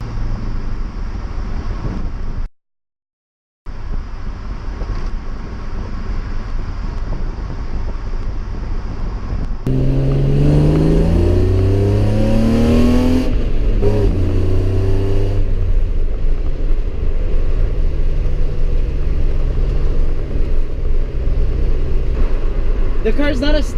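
BMW drift project car on stock springs, just fitted with replacement shocks, drives along with a steady engine drone and wind buffeting. Midway it revs harder through rising gear pulls, and speech is heard over the engine.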